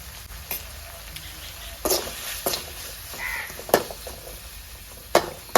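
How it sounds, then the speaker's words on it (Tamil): Potato and egg fried rice is stirred in a hot pan with steady sizzling and a few sharp scraping strokes, close up, while a crow caws briefly in the background. "இது அப்படியே நல்லா கலந்து கொடுத்துட்டு"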